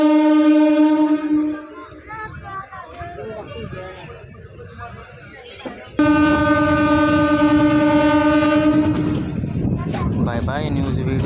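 A passenger MEMU express train on the Kakinada to Vijayawada line gives loud, sustained horn blasts over the rumbling run of the carriages, with people talking in between.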